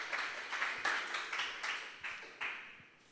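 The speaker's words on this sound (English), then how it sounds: "Round of applause. Round of applause. There we go." A seated audience at a talk claps in a round of applause, heard as a series of rhythmic clap bursts that fade toward the end, fairly faint and alone without talk.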